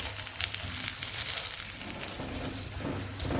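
A lachha paratha fries in ghee in a hot pan while a spoon presses it down, giving a steady, fairly loud sizzle with light scraping and no talking.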